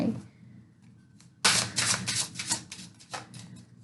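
Tarot cards are shuffled by hand, a soft brief riffle followed by a quick burst of crisp flapping card noise, close and fairly quiet.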